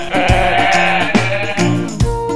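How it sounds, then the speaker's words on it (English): A sheep bleats loudly and repeatedly, wavering cries close by with brief breaks between them, heard alone. "It's a sheep."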